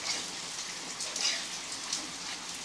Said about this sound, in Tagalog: maglagay na tayo dahan-dahan ng ating malamig na tubig